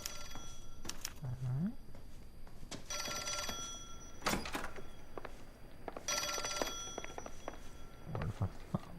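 A telephone rings in L.A. Noire, its bell sounding in repeated bursts spaced a second or two apart over faint background noise.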